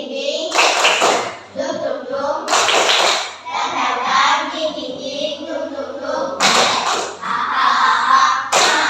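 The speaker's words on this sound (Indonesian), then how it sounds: "nanti kamu mulai tepuk tangan" An Indonesian classroom claps hands together in several short, loud bursts spread across the stretch, with a teacher's voice talking in between.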